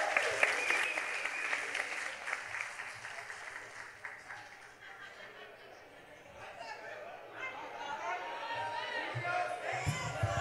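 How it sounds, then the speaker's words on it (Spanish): Theater audience at a live comedy stage show applauding and cheering steadily to welcome a performer, a dense crowd wash with some whoops and chatter, dipping briefly before swelling again. "vamos a recibir con un fuerte aplauso a mi carnal, Adro."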